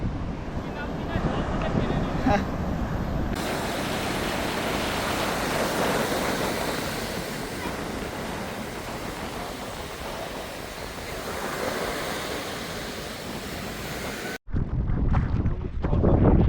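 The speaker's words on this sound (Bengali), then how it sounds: "এখানে কি হাওয়া দিচ্ছে গো?" Strong wind at Marina Beach, Chennai, roars steadily against the microphone with surf and waves mixed in, loud and continuous, with a brief cut near the end.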